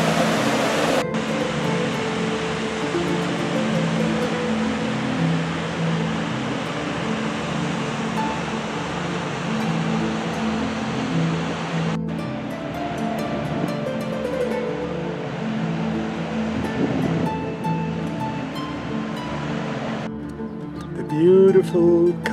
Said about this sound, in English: The magical waterfall of